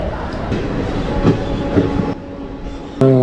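Narsapur to SMVT Bengaluru special express train number 07153 rumbling and clattering steadily on the rails near Gudivada Junction, loud and continuous, with a sharp horn-like tonal blast breaking in at the end.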